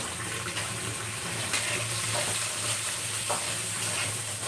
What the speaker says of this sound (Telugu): సో ఇది వేగిపోతుంది ఇందులో ఉల్లిపాయలు